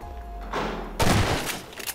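Gunfire in the Garry's Mod game as shots break a door, with a loud burst of shots around the middle followed by more clattering impacts, no talk heard.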